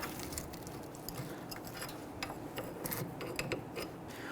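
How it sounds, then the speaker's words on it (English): A pry tool scraping and clicking as a rear brake caliper is worked off a 2006-2012 Toyota RAV4, a close run of quiet irregular metallic scrapes and taps. "I'm going to use a pry tool here to go ahead and slide that caliper off"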